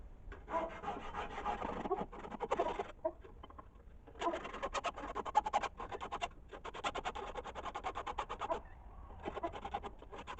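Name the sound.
Nicholson double cut file chamfering a knife spine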